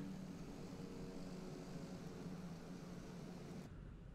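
A TBM 930 turboprop plane in a video game flight simulator drones with a loud, steady engine roar. The sound cuts off abruptly near the end.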